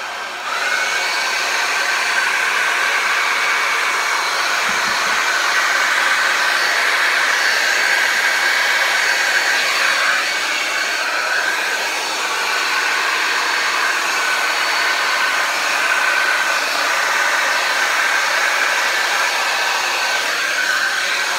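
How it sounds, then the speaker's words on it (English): A blow dryer blasts air across wet satin enamel paint in a Dutch pour, a steady, loud, close whooshing roar that holds with little change for about twenty seconds. "I am going to turn on my blow dryer so it's going to be loud for a second and blow this paint over"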